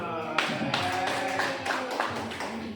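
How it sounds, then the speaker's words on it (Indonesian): A room of listeners at a school positive-culture session claps for Pak Yono, a steady burst of hand claps with a few sharper slaps, close and moderately loud, with faint talk and tonal sounds mixed in. "Tepuk tangan untuk Pak Yono."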